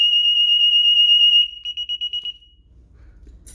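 A DSC home security alarm system under test gives a steady shrill piercing tone, then a series of short rapid beeps before falling quiet.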